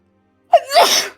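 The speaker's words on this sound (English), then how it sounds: "It's okay, everybody sneezes." A single sharp sneeze, close and loud, with a quick intake of breath followed by an explosive burst.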